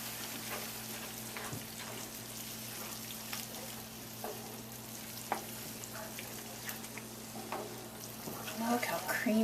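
Chicken in a skillet with creamy sauce being stirred in, a steady soft sizzle and bubbling under a spoon scraping and turning through it, with a person talking over the cooking.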